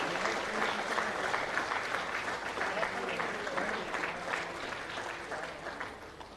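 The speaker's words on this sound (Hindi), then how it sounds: "तालियां आपकी ओर से लगातार होती रहे" A crowd at a Jharkhand government appointment-letter and student honours ceremony keeps up sustained applause, a thick clatter of many hands that stays strong before easing off slightly near the end.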